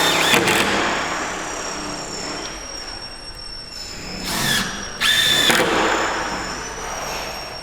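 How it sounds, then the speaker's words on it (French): A cordless drill drives screws into a wood panel while a garden studio is assembled, with close whining bursts near the start and two strong spins around the middle, over a steady background hum. "Je mets ma deuxième vis."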